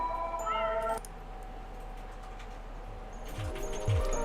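A cat in Tokyo Dark video game gives a drawn-out meow near the start, followed by quieter mewing over a steady low background hum, with a couple of brief rising cries toward the end.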